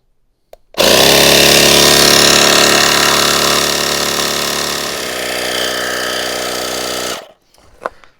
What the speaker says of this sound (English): when I power this on, it's going to pump this up until 35 and then stop